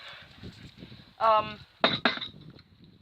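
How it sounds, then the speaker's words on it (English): Mixed glass bottles and jars in a small outdoor recycling bin clink and clatter in a couple of brief, sharp bursts, while a person talks quietly underneath. "Inside, there are mixed glass bottles and jars."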